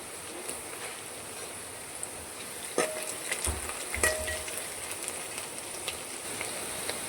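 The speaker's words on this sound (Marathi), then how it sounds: "कांदा पण आपण छान तळून घेऊया" Chopped onion frying in a pan for a spinach dal, giving a steady, faint, even sizzle with a couple of brief clicks of a utensil partway through. Nobody speaks.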